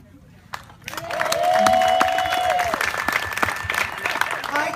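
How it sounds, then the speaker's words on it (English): Party guests clap and cheer loudly for neighbors, a sustained burst of applause with crowd voices mingling, while a tonal sound glides through the middle. "I think we all need to give them a big rousing applause"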